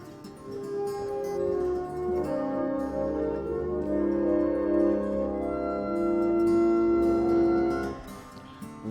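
An 1898 pipe organ at St. Martin's Church, pedal-operated, sounds sustained chords that swell and hold for about eight seconds, fairly close and full, then fade near the end with no talking.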